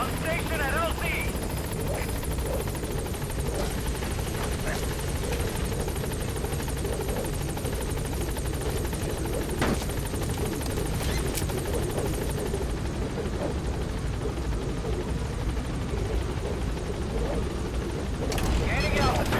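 Video game helicopter from Metal Gear Solid V flying as a steady, loud rotor drone throughout, with a radio-style voice and a few brief thumps mixed in.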